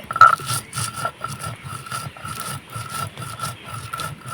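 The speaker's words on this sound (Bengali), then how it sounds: "মশলাটা ঠান্ডা হয়ে গেছে এবার বেটে নেবো তা আমি শিলপাটে বেটে নিচ্ছি" Cooled pickle spices for a sweet-sour raw mango pickle are ground by hand on a stone slab (shil-pata), giving steady, close, rhythmic back-and-forth scraping strokes with no talking.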